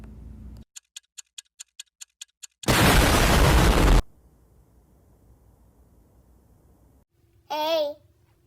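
Cartoon bomb from The Amazing Digital Circus: about nine sharp countdown ticks, then a loud roaring blast lasting over a second, a quiet rumbling tail, and a brief warbling cartoon sound at the end.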